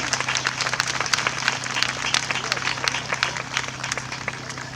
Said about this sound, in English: would your team please stand? And let's give them a round of applause